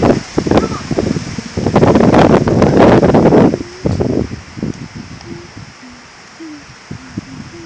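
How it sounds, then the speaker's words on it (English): Gusty outdoor wind buffets the microphone in loud broadband rushes, strongest in the first four seconds and then easing, with leaves rustling and a few faint bird chirps. "It's too windy out today."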